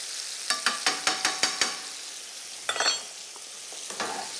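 Apple pieces caramelizing with sugar and cinnamon in a pan, a soft frying hiss broken by a quick run of light spatula scrapes and taps, then a few more scattered strokes, close and fairly quiet.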